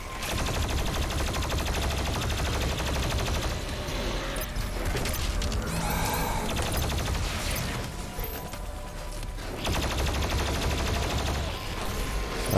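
Rapid, continuous weapon fire in the shooter game Doom Eternal, loud and dense with mechanical clatter throughout, easing briefly before the barrage resumes.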